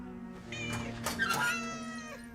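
A cat gives a couple of quiet, drawn-out meows, the second rising and wavering, heard faintly over a steady low background hum.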